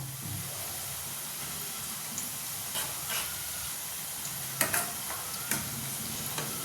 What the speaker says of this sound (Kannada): ಈಗ ಹುಷಾರಿಂದ ಒಂದೊಂದನ್ನೇ ನಾನು ತಿರುವು ಹಾಕ್ತಾ ಇದ್ದೀನಿ.